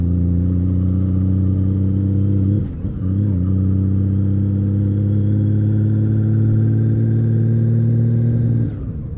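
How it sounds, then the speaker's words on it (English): A Honda Valkyrie motorcycle riding past speed bumps gives a loud, steady low engine drone close up, with two brief dips in the rumble where the bike crosses bumps. "I like to split between these speed bumps as often as I can. It's not real nice going over them with the bike."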